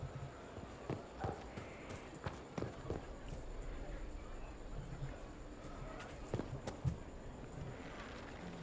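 A mount's hooves clip-clop in a steady running rhythm while riding in the video game Dragon Age: Inquisition, mixed with faint game ambience and a voice talking at times.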